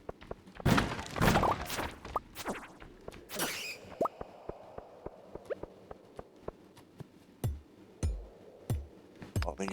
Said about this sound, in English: Let me just bomb this floor and then I'll leave.